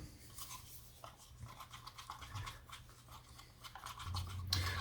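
A mixture is stirred thoroughly in a container during vacuum-formed seat bucket work, giving a quiet, continuous scraping and scratching rhythm that carries on alone without talk.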